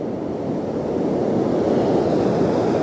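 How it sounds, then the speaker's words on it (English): Ocean surf breaking on the beach at South Padre Island, a steady loud wash of crashing water with wind noise on the microphone, continuous through the whole stretch with no talking. "Those waves are pretty wild."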